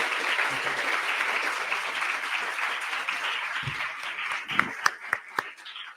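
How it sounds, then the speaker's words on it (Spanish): Audience applause for an author at a talk on Bogotá rock, a sustained wash of clapping that thins into a few scattered, louder claps at the end. "Fuerte el aplauso para nuestro autor, Diego Leonardo González"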